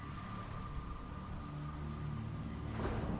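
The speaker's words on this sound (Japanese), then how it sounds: "雨の中ボートに乗るのかい？" Rain in a video game falls steadily as a soft continuous hiss while a boat is ridden, with a low engine-like drone underneath and a brief rise near the end.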